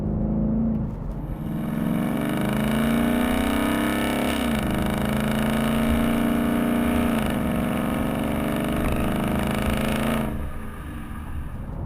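Roush axle-back quad-tip exhaust on a 2015 Mustang GT roars at wide open throttle, loud and close, the pitch climbing through rising sweeps with a quick drop between pulls before the engine note cuts off near the end.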